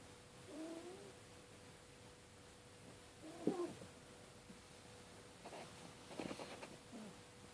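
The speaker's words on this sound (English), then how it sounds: "Cat." A cat meows in a few short, quiet calls spread across the stretch, each one brief and separated by pauses over a faint steady background hum.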